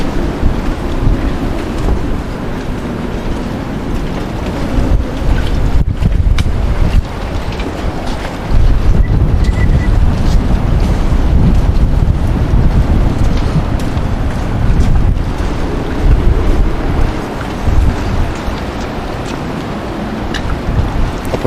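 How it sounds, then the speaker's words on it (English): Strong wind of around 40 knots roars continuously around a docked boat, loud and buffeting the microphone, with deep rumbling gusts and water sloshing beneath. "Blowing about 40 out here right now."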